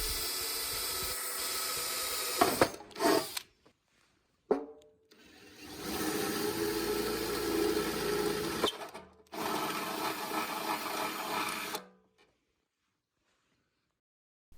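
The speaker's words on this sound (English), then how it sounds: "all we did was drill the holes" A power drill bores holes in a box for a remote-controlled drag lure machine, heard as three separate whirring bursts of fairly faint mechanical whine with short silent pauses between them.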